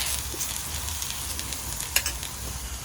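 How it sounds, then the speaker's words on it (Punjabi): Parathas fry in ghee on a griddle, giving a steady, close sizzle with faint crackles and a few soft pops. "ਮੰਮੀ ਅੱਜ ਘਿਓ ਵਾਲੇ ਪਰੌਂਠੇ ਲਾ ਦੀ"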